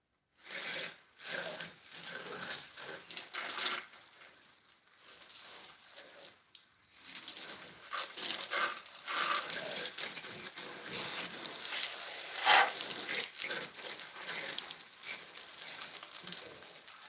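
Running water spatters and trickles steadily at close range while shaving-soap balls are wetted, a soft, continuous patter that swells a little in its later half.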